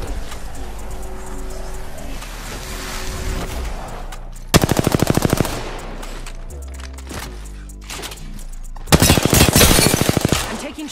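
Rapid automatic gunfire in a video game shootout, two loud sustained bursts of rattling shots about four seconds apart, over game music and ambient hum with lighter scattered shots between.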